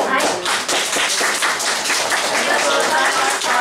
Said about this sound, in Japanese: もう一度ボランティアの皆さんに盛大な拍手で